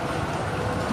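A tram rolls along its rails, a close, loud, steady rumble with faint rhythmic clatter filling the whole moment.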